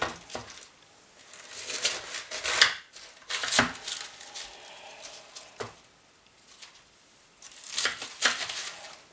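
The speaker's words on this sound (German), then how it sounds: "Wir beginnen damit, dass wir unser Kraut schneiden" A knife cuts through cabbage for Krautnudeln, with crisp, crunchy slicing strokes in irregular clusters, loud and close, separated by brief pauses as the leaves are cut.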